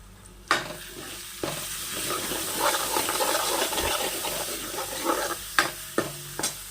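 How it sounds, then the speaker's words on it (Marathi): Masala roasting in a pan over a low gas flame for chicken biryani, a continuous crackling sizzle broken by sharp clinks and scrapes of a spoon against the pan, louder bursts at the start and end. "मसाला भाजतो आहे बारीक गॅसवरती ठेवलेला आहे"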